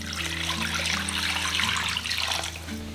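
Water from a tap runs into a cooking pot lined with a cloth and holding glass jars, a continuous close splashing stream with a gurgling undertone and no talk.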